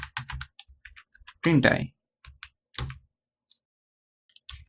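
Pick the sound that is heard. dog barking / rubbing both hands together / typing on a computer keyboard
typing on a computer keyboard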